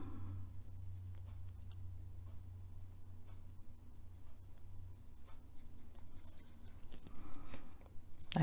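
Pencil strokes scratch softly and repeatedly across paper while coloring an adult coloring page, quiet and close, with a faint low hum beneath the rhythmic scribbling.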